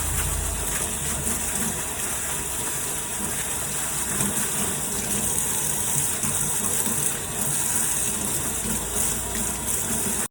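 Hot water gushing steadily from a tap for rinsing tie-dyed fabric, a loud continuous rush lasting throughout with no speech.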